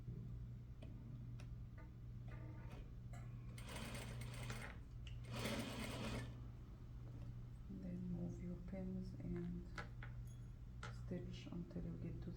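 Sewing machine stitching a seam while a Peter Pan collar is attached to a bodice neckline, running in bursts with rapid ticking stitches, close and fairly quiet, with a steady background hum and pauses between runs.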